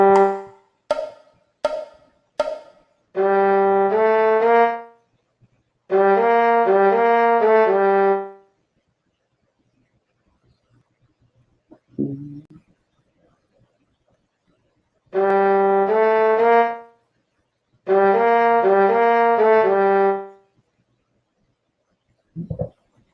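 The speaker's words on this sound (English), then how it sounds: "I actually play it on my trombone while I'm working on it" A trombone plays a simple blues melody in sustained, separate phrases with pauses between them, loud and close, preceded by a few short sharp taps.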